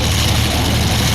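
A pulling tractor's engine warms up at a tractor pulling event in Fiume Veneto, a loud, steady low idle rumble with no break.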